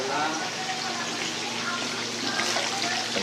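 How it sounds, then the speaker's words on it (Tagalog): Water pours steadily into a cooking pot while sinigang is being prepared, a continuous loud rushing splash that stays even throughout. "Konting tubig."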